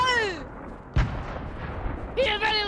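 A grenade explodes in the video game Fortnite with a single sharp, booming blast, set among tonal game sound effects and excited voices.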